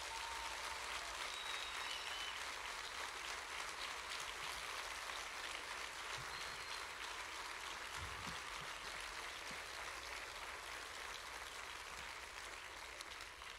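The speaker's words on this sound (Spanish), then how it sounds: "un aplauso para este auditorio que inauguramos hoxe" Soft, even applause fills a hall for the inauguration of the Grove Auditorium. It holds steady for around fourteen seconds at a fairly low, distant level.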